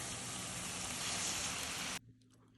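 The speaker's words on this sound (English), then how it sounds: "Then we're gonna sear those prawns and scallops." Prawns and scallops searing in a hot pan give a loud, steady hiss for about two seconds, which then cuts off abruptly, leaving only a faint low hum.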